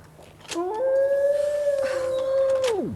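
Demon dog howling: a single long, sustained howl that rises, holds steady for about two seconds, then drops away, loud and close with nothing else heard.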